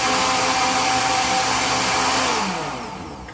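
Blender whirring loudly as it blends a peanut butter protein shake, a dense steady roar close by that holds for a few seconds, then winds down and fades at the end.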